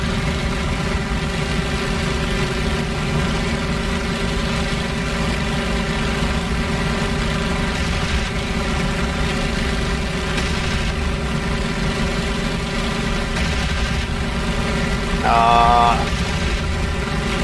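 A WWII fighter plane engine in a video game, running hot: a steady, droning engine hum that holds constant throughout, with a brief higher tonal whine near the end.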